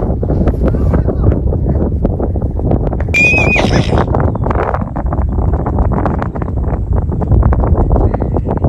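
A farmer's horse neighs once loudly mid-way through a countryside hike in Carding Mill Valley, UK, with wind buffeting the microphone and a voice talking throughout.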